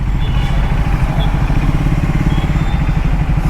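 A Triumph Speed 400 motorcycle engine running steadily, a loud close rumbling thrum with a rapid even pulse throughout, no talk over it.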